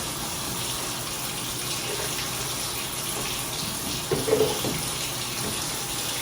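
Water pouring steadily into a glass of lemon juice, a continuous gushing splash with a brief louder surge near the end, close and moderately loud.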